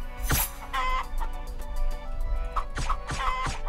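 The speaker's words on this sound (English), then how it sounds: "Another bird." A bird in a snowy survival video game clucks repeatedly like a chicken, a few sharp clucks spaced across the clip over a steady game ambience and music bed.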